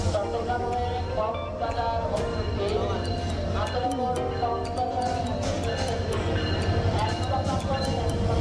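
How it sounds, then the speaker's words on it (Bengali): A night train from Dhaka to Cox's Bazar rumbles steadily throughout, a continuous low rolling drone with faint clinks and rattles riding over it, close and loud from inside the carriage. "আমরা উঠে গেছি ট্রেনে কক্সবাজারের পথে"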